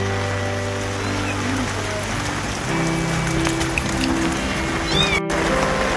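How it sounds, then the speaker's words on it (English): Kittens trapped outdoors meow for help over a steady wash of rain or running water. Several short, high cries come and go across the clip amid a constant background hiss. "Meowing for help, these kittens were heard and rescued"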